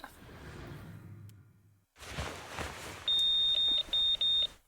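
After a whooshing rustle, a car video phone in Zenless Zone Zero beeps insistently with a high electronic tone in a repeating pattern, one long beep followed by several short ones.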